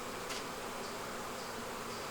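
Steady buzzing of honeybees in a struggling hive that has lost its queen, a close, continuous hum with a brief brighter zip near the start and occasional thin whines above it.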